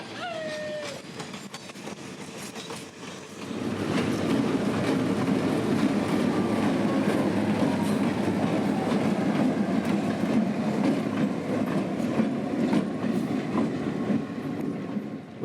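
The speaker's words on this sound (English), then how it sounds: "the train would pass the old Seaboard whistle post sign" A passenger train at the Florida Railroad Museum rumbles along the tracks, a quiet hum at first swelling into a steady, loud roar of rolling wheels with faint rhythmic clatter, and no voices.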